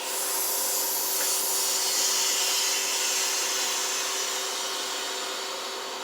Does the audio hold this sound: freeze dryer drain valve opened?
yes